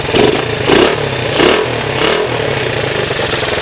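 A Honda XR80 motorcycle with a replacement $150 engine runs steadily close by, its clattery mid-pitched idle rising in a few short revs before settling into an even chug, with no voices.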